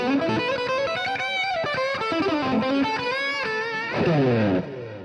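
An electric guitar on its bridge pickup runs through a Softube Marshall Jubilee amp plugin, giving a loud, distorted lead phrase of fast bent notes that ends on a sustained, wavering note.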